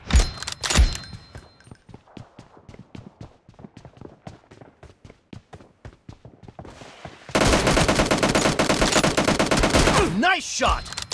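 Gunfire in what seems a shooting game: a rapid run of sharp single shots, then a dense, loud burst of continuous automatic fire lasting several seconds, with brief shouting voices around it.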